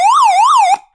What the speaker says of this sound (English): Here we have a siren, which is really loud.